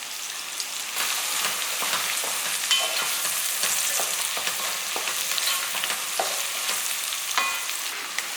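Cashews and slit green chillies sauté in a pan for a fenugreek coconut milk rice, giving a steady close sizzle with scraping stir strokes and small crackles scattered throughout.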